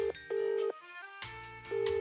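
Phone tones from a role-playing video game ring out alone, two steady beeps and then a brighter burst of several pulsing notes, close and clear.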